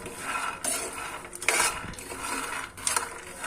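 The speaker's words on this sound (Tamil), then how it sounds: "டெக்னு வெடிக்கிற சத்தம் மாதிரி கேட்குது." Peanuts roasting in a pan while being stirred for peanut butter, giving a dry crackling, clattering scrape with bursts of rattling against the metal, steady and close with no talk.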